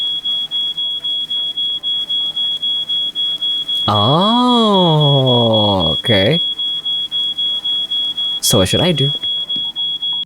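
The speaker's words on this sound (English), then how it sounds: "we need to do something about that alarm" In a documentary escape video game, a smoke alarm set off by burnt toast gives a steady, loud, rapid high-pitched beep all the way through, while a voice speaks over it in the middle and again near the end.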